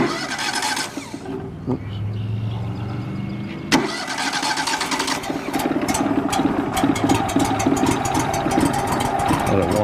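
The engine of a WoodMizer LT35HD sawmill, lightly choked for the first start of the morning, cranks and catches, then settles into a steady close idle; a brief spoken word is heard near the start.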